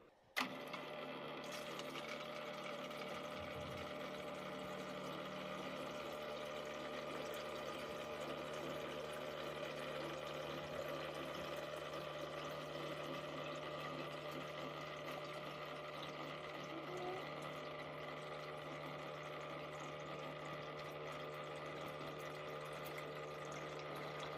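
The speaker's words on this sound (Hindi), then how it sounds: "मोटर चालू की जा रही है।" An electric motor pump runs steadily as it fills a house's empty water tank, giving a constant, even mechanical hum with faint water flow, after a brief click at the start.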